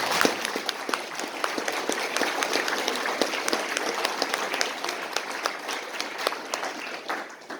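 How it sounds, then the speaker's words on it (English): A council candidates' forum audience in Ponoka claps in a dense, even round of applause that runs the whole stretch at moderate loudness before tapering slightly at the end. "So let's give every candidate a round of applause"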